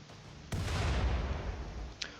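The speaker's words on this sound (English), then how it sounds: "You are throwing a grenade at a wall" A grenade explodes against a wall in the video game RimWorld: one sudden boom with a rumbling, noisy tail that fades over a second or so, followed by a short faint pop.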